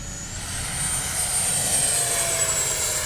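A Freewing F-16 70mm electric ducted-fan RC jet flying overhead gives a steady high whine and airy rush, with the pitch sliding slightly as it passes, fairly loud and sustained with no talk.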